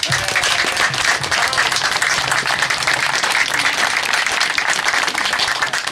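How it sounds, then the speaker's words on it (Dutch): Steady, dense audience applause for the mothers who sewed the children's smart suits, heard at a schutterij marksmen's guild festival, with continuous clapping from a sizeable crowd and no talk over it. "Daar wou ik graag een applaus voor hebben."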